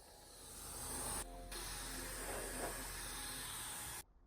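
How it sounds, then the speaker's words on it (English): Spray gun hisses paint onto cabinet doors during a budget home renovation, a close, continuous airy spray that pauses briefly once, resumes, then cuts off abruptly near the end. "I moved on to spraying the cabinet doors with the same color as"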